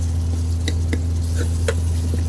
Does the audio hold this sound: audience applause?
no